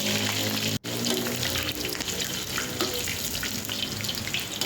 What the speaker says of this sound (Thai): นำมาทอดกับน้ำมันนะครับ น้ำมันร้อนๆนะครับ